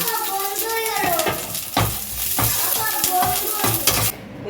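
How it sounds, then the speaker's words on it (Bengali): Green chilies fry in a little oil in a wok, a loud close sizzle and crackle with metallic clinks and scrapes of a utensil against the pan; faint background voices run beneath. "লঙ্কাটা এখন ভেজে অ্যাড করব"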